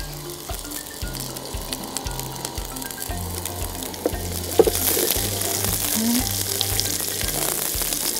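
Onions sizzle in hot oil in a pan, a steady close crackle that swells louder partway through, with faint clinks of a utensil stirring.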